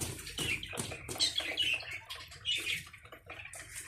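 Caged quail birds give a quick run of short, high chirps and tweets, several birds calling close by in irregular bursts over faint background rustle.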